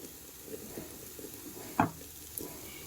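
Bitter gourd frying in a pan makes a faint, low sizzle with a few soft stirring scrapes and one sharper clatter near the middle, heard close and alone.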